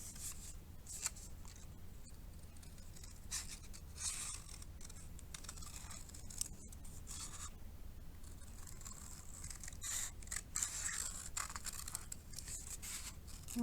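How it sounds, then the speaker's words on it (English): Scissors cut paper around the outline of an origami ornament, producing quiet, scattered little snips and crisp paper rustles in an irregular rhythm close by. "So I cut out the whole shape first. So you just go around the outline."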